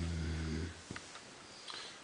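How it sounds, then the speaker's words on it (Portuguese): A person snoring in a room, one low rumbling snore in the first part, then quiet breathing and faint small noises. "E agora está a roncar."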